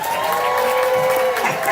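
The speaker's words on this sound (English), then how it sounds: "the crowd goes wild" A crowd cheers and applauds at a county fair mutton bustin' event, a dense continuous roar of voices with whistles and shouts, steady and fairly loud.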